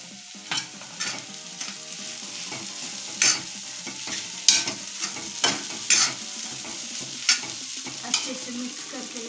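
Egg bhurji chutney with coriander is stirred in a pan, a soft continuous sizzle broken by sharp spatula scrapes and taps at irregular intervals, close up and without talk.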